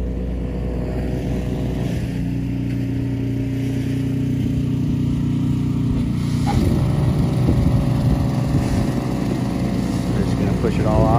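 A walk-behind snow blower's small gasoline engine runs steadily nearby in heavy snow at Mammoth Lakes, California, droning continuously and rising slightly in intensity partway through, with outdoor background noise.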